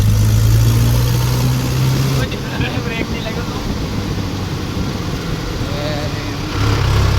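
A modified Challenger tractor with a tuned pump of more than 55 hp runs along a village road near a railway crossing, its engine droning steadily and loudly, dipping a little midway before picking back up.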